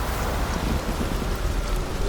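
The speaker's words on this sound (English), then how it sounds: "now we can hear the rain. Very loudly" Heavy rain pours loudly in the video game Detroit: Become Human, a dense, constant downpour close up with a low rumbling undertone and no voices.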